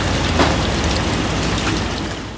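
A heavy rain downpour during a storm on a city street pours down in a dense, continuous hiss that stays loud and close for the whole stretch.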